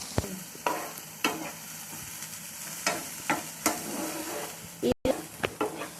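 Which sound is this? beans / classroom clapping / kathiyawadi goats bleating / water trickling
beans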